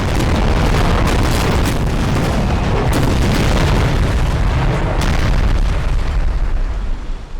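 Broadside volleys from sailing warship cannons in a Napoleonic naval battle, a dense continuous roar of overlapping booms and blasts rolling on loudly throughout, with sharper cracks standing out near the start and middle.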